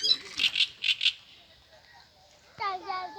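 A small red-billed bird sings from deep in a bush at a nature park near Karasu, giving a few clear, high chirps in quick succession at moderate distance before a person begins talking.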